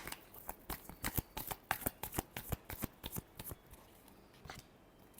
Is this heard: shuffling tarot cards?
yes